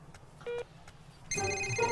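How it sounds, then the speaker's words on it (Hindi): A telephone rings in short repeated bursts of electronic tones at moderate loudness, with a brief tone early on and a louder continuous ring toward the end, no one speaking. "अबे रिंग तो यहीं कहीं बज रही है"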